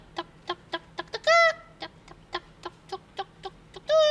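A person imitates a chicken, giving a run of short rhythmic clucks with two drawn-out squawking calls among them, loud and close with no other sound.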